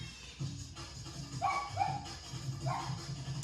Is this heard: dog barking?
yes